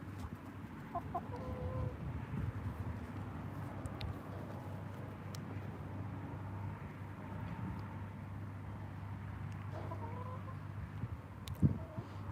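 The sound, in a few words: chickens clucking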